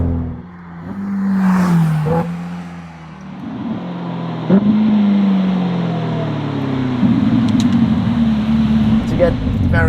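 Ferrari F8 with a Novitec exhaust accelerating in rising, revving pulls, the engine note climbing and dropping through several surges, loud and close, with a voice talking over it.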